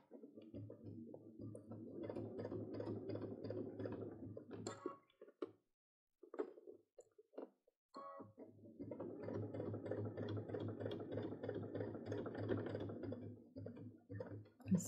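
A sewing machine runs steady top stitching on a wristlet in two long bursts of rapid mechanical ticking, with a brief pause and a few handling clicks between them.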